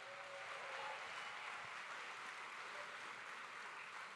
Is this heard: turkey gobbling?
no